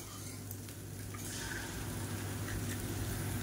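Three eggs go into a hot oiled pan beside part-cooked vegetables for egg noodles, bringing a close, steady sizzle and frying hiss with light liquid splashes.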